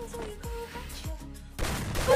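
Shotgun and SMG fire in a video game: several sharp booming shots with falling tonal tails sound over a low background hum, ending in a louder burst of gunfire.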